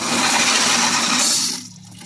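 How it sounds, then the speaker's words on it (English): Water gushes loudly and steadily into a bucket for about a second and a half, then drops to a quieter trickle. "And we fill it with water"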